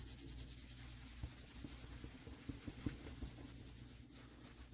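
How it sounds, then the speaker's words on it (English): Cleaner is rubbed onto a tarnished Cartier Love diamond bracelet with a soft, continuous scrubbing swish, faint and close, with scattered small clicks as the piece shifts. "And then you start rubbing."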